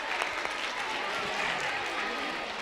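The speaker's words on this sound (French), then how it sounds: "Applaudissez-le." Sustained applause from an audience at a school twinning ceremony, even and continuous clapping heard somewhat distant with faint crowd murmur beneath.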